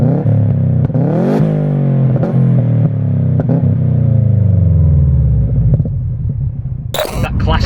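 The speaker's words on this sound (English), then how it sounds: "That classic Subaru rumble that we've all grown to love" Subaru WRX engine with a deep, loud rumble that rises and falls through several revs, close up and alone, ending in a short burst of higher-pitched noise.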